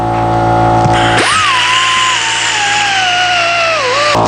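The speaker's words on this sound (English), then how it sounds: "I'll put a large Scotch-Brite disc on, and then I can get kind of down into the spots a little tighter" A power tool fitted with a large Scotch-Brite disc spins up on metal during a Piper Super Cub refurbishment, a loud steady whine rising abruptly and holding with a slowly drifting pitch over a background hum.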